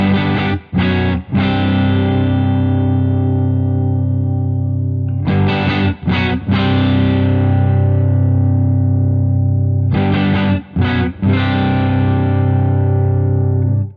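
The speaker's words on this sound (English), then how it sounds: "If I roll it all the way off, you get that warmer, muddier tone." Sustained electric guitar chords through a Boss OD-3 overdrive pedal with its tone rolled fully off, warm, dark and muddy, ringing out in three long strums separated by brief choppy re-attacks.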